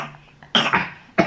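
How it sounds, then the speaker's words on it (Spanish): A person coughs at home, a short soft hack followed by two louder harsh coughs in quick succession, close by and alone. "Ay, qué tos."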